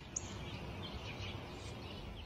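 Sparrows chirp in high, faint bursts over a steady low background rumble, with no one talking.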